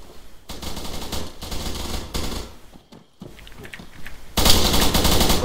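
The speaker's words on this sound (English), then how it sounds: "you're taking fire from both of these small huts" Sustained automatic gunfire in the Arma military video game, loud bursts of machine-gun fire throughout with a brief lull near the middle and an intense close barrage at the end.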